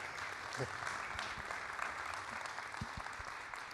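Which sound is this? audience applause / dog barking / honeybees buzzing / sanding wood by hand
audience applause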